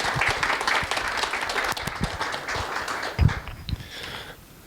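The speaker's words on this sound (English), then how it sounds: "Nice big round of applause for Anthony Wilkenson." Audience applauds to welcome speaker Anthony Wilkenson at a talk on stomping out stigma, a dense, steady clapping that carries on for several seconds with a few louder claps before tapering off.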